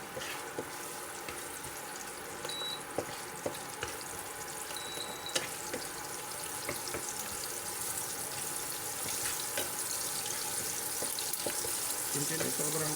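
Onion and garlic frying with corned beef in a home kitchen pan, a steady broadband sizzle running throughout with occasional clicks and scrapes, fairly quiet and even, no talk over it.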